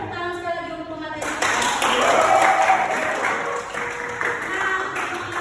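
A classroom audience at a talk-show roleplay breaks into sustained clapping after a brief spoken moment, many hands pattering steadily at close range with some voices underneath.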